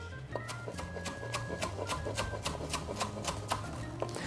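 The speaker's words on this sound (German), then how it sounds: "So, schneide ich noch ein bisschen Lauch." Knife cutting leek on a board, a steady run of crisp, evenly spaced slicing taps with rasping texture, close and fairly quiet.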